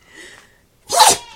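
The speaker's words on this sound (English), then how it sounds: "I don't know if this dog's gonna sneeze again." A dog sneezes once, sharp and close, following a brief faint voice in a quiet indoor room.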